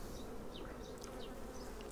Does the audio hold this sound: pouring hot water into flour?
no